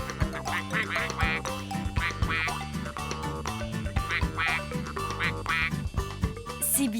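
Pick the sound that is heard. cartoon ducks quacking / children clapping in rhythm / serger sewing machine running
cartoon ducks quacking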